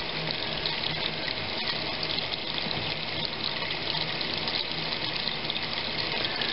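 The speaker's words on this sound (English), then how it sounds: "So right now I have a shower going and two sinks going." A shower and two sinks run at once in a home with a Rheem RTEX 18 tankless electric water heater, giving a steady, dense rush of flowing water with no talking over it.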